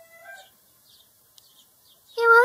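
A sparrow perched on a windowsill, heard very close, gives a few faint chirps and then a louder, harmonically rich call at the end, with quiet gaps in between.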